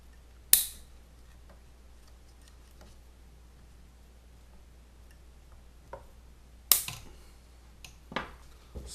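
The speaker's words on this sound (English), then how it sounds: "And we just clip off the excess." Excess material on a RunCam rain cover being snipped off, two sharp, close clicks of the cutter several seconds apart with a couple of softer ticks between and after.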